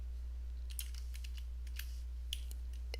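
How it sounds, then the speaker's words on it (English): Light, irregular clicks of a computer keyboard being typed on, faint and fairly close, scattered bursts of keystrokes over a low steady hum. "I feel like he's typing."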